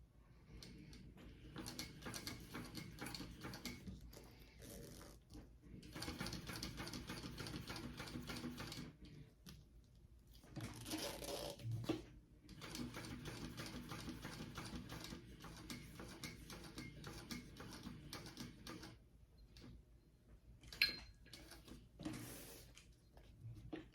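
A sewing machine stitches a wallet with bonded poly thread, running forward in long steady bursts of fast mechanical chatter, with short pauses between runs; close and fairly quiet.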